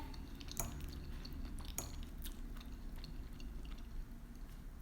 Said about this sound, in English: Let me quickly take a bite of this mac and cheese because I'm hungry